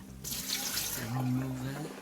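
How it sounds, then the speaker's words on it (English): Cold water runs from a kitchen tap onto freshly cut potatoes for homemade chips, a steady broadband splashing that starts abruptly and continues close and fairly loud, with faint voice-like tones underneath. "I just run some cold water onto that"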